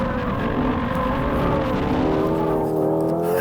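A Hyundai Ioniq 5 N electric car drives hard and accelerates, a loud continuous whine with engine-like tones rising in pitch along with road and wind roar.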